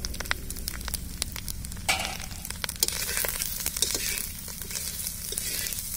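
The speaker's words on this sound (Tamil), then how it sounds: "எல்லாத்தையும் போட்டு நல்லா வந்து வணக்கிக்கணும்." Masala and spices sautéed with stirring in a pan for a Tamil-style egg fry, a loud steady sizzle with scraping stir strokes throughout, close up and with no talk.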